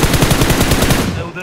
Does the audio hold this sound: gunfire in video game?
yes